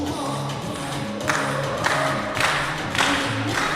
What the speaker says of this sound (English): I don't really want the press room clapping because I want to be able to hear the vocal